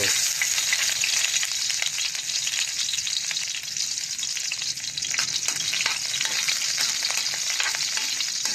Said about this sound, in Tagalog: Kunti lang, panggisa lang. Ayan, tapos lagay na rin natin yung bawang.